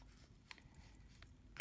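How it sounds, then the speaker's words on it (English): Jewellery wire snipped with cutters while making wire-wrapped rhinestone earrings: a couple of faint small clicks, then one sharp, close snip at the end, in a quiet room. "we're just going to go ahead and snip this off because I want us to have enough wire"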